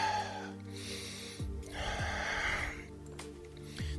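Slow, steady breathing during a held neck and shoulder stretch in a postural corrector exercise, with soft airy breaths rising and falling close by over a low background hum.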